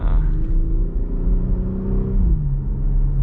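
Jeep Grand Cherokee 3.6L V6 fitted with a new exhaust accelerating from low RPM, a loud, steady engine drone that climbs in pitch and then drops as the transmission shifts, heard close from inside the cabin.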